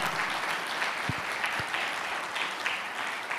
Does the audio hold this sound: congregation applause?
yes